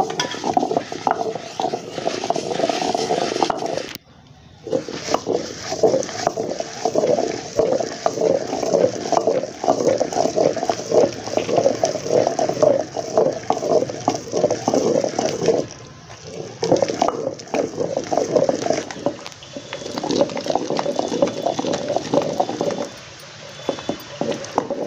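Gongura leaves and chana dal are ground into chutney in a stone mortar, making continuous close, rough scraping and grinding with brief pauses while the pestle is worked round the bowl.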